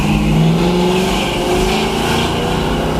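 1969 Chevrolet Camaro SS with a 350 turbo transmission accelerating hard, loud close engine roar with rising pitch over a heavy exhaust rumble, no voices.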